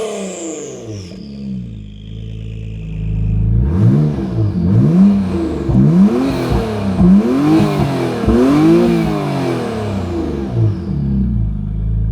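Acura NSX Type-S hybrid engine revving, rising and falling in several repeated blips after a quieter idle, loud and close with no talking.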